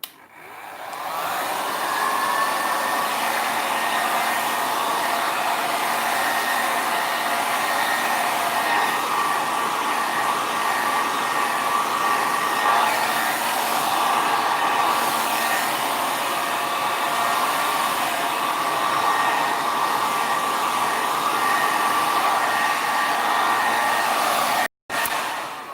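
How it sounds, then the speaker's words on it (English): A heat gun blows hot air to dry alcohol inks, a loud, steady whooshing drone that starts up and runs continuously, cutting out for a moment near the end before resuming. "I'll just put the heat gun on."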